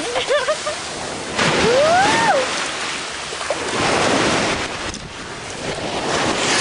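Sea surf on a beach, a steady broad wash of breaking waves swelling and fading close by, with wind buffeting the microphone and a brief high voice early on.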